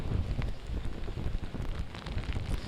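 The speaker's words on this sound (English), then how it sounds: "Kim, the rain has been coming down nonstop since about 8 o'clock this evening." Rain and gusting wind from Hurricane Matthew at night in Millen batter the microphone with a heavy, continuous rumbling roar and steady hiss of downpour, no voices heard.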